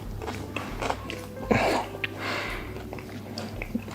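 Close, soft chewing and biting on Dover sole with truffle sauce and cauliflower, a fine-dining plate, with irregular mouth sounds and breaths and one louder crunchy burst partway through.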